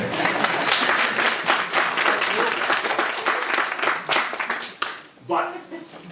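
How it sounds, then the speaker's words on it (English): Audience applause fills the room for several seconds, a dense steady wash of clapping that dips briefly near the end as a voice begins talking over it. "clap for that"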